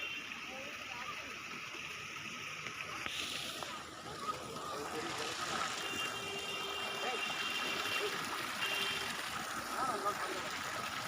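Cold water flows and sloshes steadily outdoors, a soft continuous wash at moderate distance with faint splashes and a distant engine-like hum underneath.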